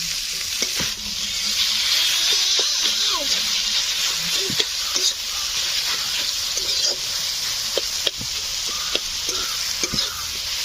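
Food fries in a pan for a village-style prawn dish with taro stalks, a continuous sizzle punctuated by repeated scraping stirs of a spatula.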